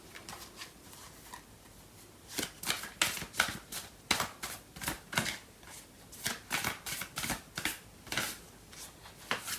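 Tarot cards being shuffled in quick, steady riffling bursts, close and fairly soft, repeating in a regular rhythm with no voice over them.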